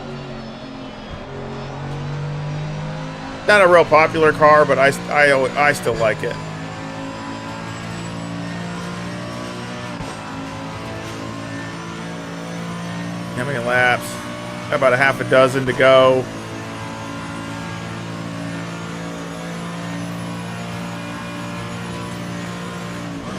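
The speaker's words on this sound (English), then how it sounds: "You gotta love the sound of the AMG." A Mercedes-AMG GT3 race car engine in iRacing drones steadily at Mount Panorama in a GT3 race, with two bursts of sharp rising revs and gear changes while someone talks over it.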